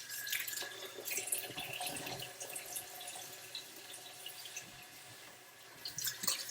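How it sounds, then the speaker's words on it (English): Warm tap water runs from a kitchen sink faucet into a pot for a turkey brine, a steady close splashing stream with brief drips and no talk over it. "Take your pot over to the sink, and what we're going to do is put a little bit of warm water in there"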